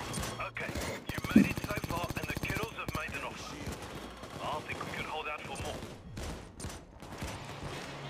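Gunfire in PayDay 2 VR during a San Martin holdout wave, rapid automatic bursts with a fast rhythmic rattle early on, then scattered shots and clatter under excited talk.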